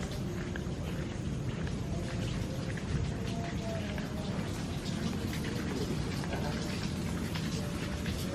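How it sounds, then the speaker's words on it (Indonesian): Heavy rain in a storm falling steadily on surfaces, a dense continuous hiss and patter at low level with faint low rumbles in the background. "Hujannya gede banget, hujan badai."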